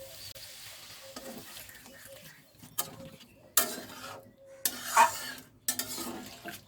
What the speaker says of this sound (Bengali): এবার আস্তে আস্তে নারকেলের দুধটা এর মধ্যে দিয়ে দেবো